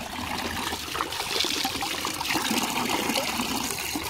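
Spring water trickling and splashing continuously from a built-up roadside spring in Italy, a steady babbling flow without pauses or voices.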